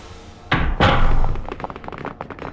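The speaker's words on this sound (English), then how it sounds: "The door shut" A door shuts in an audio drama: a heavy thud followed by a second knock-like slam, then a short rattling settle fading out, close and loud, with no voices.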